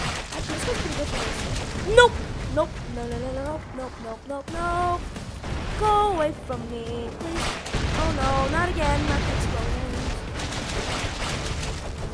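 Explosions and gunfire in the video game Expendabros, with rapid bursts of shots and booming blasts under a steady layer of game noise and music, interrupted by loud impacts.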